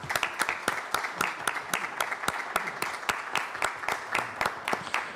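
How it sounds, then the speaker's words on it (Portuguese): Council members applaud in a chamber during an ordinary session, steady clapping from a room full of people, continuous and moderately loud for several seconds with no talk. "somente uma salva de palmas desses vereadores dessa casa"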